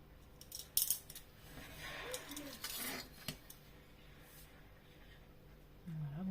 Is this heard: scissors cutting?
yes